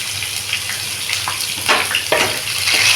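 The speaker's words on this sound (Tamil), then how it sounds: "வெங்காயம் நல்லா வதங்கணும்" Onions frying in a pot with cinnamon and cloves for a vegetarian mutton-style kuzhambu, a steady close sizzle with a few brief louder bursts of crackle, no talking.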